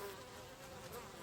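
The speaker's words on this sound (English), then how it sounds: "Only one sort of bee makes enough honey for beekeepers like Bob to harvest. Unsurprisingly, they're called honeybees." Honeybees from big hive colonies buzzing steadily and faintly, a low continuous drone of several insects with no voices.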